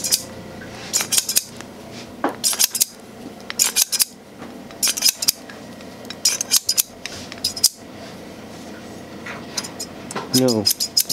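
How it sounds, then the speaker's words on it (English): Repeated crisp snips of barber scissors cutting hair, quick bursts in small clusters with short pauses, close and clear with no talking. "They just want to hear the sound of my scissors and the clippers."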